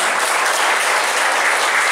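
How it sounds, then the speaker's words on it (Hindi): A class audience at a three-day beekeeping training session in Hajipur, Vaishali, claps together in dense, steady applause, close and loud for its whole length. "थोड़ा क्लास के ताली बजा दीजिए एक बार।"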